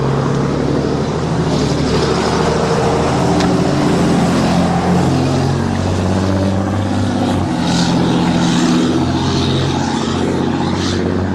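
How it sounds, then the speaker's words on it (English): A loud, poorly muffled truck drives past on a road near a beach, its rough engine roar dominating throughout with a low droning rumble. "That's a noisy truck."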